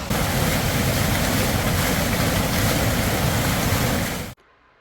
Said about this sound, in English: Love this waterfall.